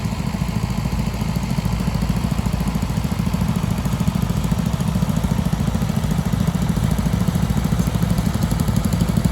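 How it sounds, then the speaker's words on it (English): An Oliver 1650 gas tractor engine runs steadily up close at a tractor show, a continuous low rumbling idle with a dense, even throb and no breaks or talk. "Some more tractors out of Steve's collection, Oliver 1650 gas"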